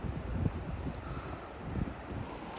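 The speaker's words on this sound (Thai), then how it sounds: "ถือว่าตรงนี้เป็นช่องลมพอดีเลยอะ" Wind blows strongly across the microphone at a breezy hilltop gap, producing gusty low buffeting and broadband rushing that swells and eases over a couple of seconds.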